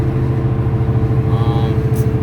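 A car engine drones steadily while driving, a constant low hum with a faint whine partway through, no voices heard.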